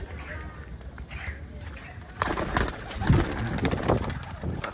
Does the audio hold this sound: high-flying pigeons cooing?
yes